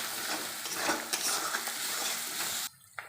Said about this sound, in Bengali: এবার ভালো করে এবার নেড়ে নেব